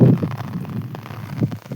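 Light drizzle falls on a rural settlement in the rains, heard as soft, steady patter with a few brief, louder drops standing out close by.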